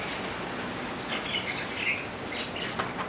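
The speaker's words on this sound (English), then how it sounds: "The breeze is nice and breezy, the bird is nice and birdy." Outdoor ambience with a steady breeze hissing throughout, a few faint, brief bird chirps rising above it now and then, picked up by a camera's built-in microphone about three feet away.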